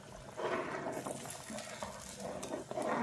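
Seeraga samba biryani with peanuts and chana dal simmering in a pot, a soft steady bubbling and gurgling that goes on without a break.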